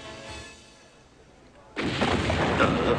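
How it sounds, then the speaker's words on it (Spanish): A cartoon explosion in an animated comedy bursts in suddenly after a quiet stretch, a loud broad blast that holds steady and roars on to the end. "Una explosión."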